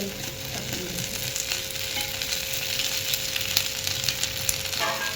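Thalipeeth flatbread fries in oil over low gas with a steady, close, even sizzle that hardly changes, and there is no talk.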